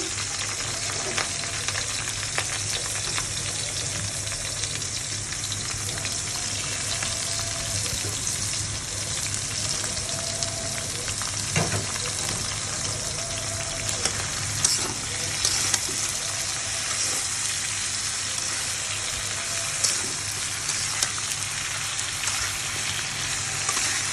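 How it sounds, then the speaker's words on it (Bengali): Eggplant frying in hot oil for begun chingri gives a steady, close sizzle that runs unbroken under a faint low hum, with small crackles and pops scattered through. "প্রথমে আমি তেল দিয়ে নিয়েছি, তারপরে আমি বেগুনটা ছেড়ে দেবো।"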